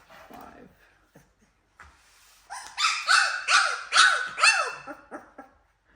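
Two-week-old Cane Corso puppies cry and whimper, several loud, rising-falling yelps in a rapid series after a quieter stretch, close by, with a person speaking softly near the start.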